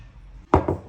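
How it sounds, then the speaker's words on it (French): Chocolate-filled moulds tapped against a kitchen worktop: two sharp, close knocks in quick succession, near and fairly loud after a quiet moment, with no talking. "Je viens les taper sur le plan de travail"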